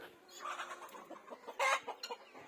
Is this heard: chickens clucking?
yes